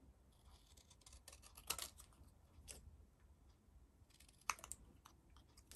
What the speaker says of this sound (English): Just use my bigger scissors just to cut these out.